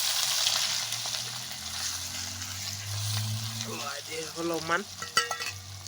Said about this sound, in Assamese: তেল গৰম হৈ গৈছে। পিঁয়াজ আৰু মছলা দি দিছোঁ।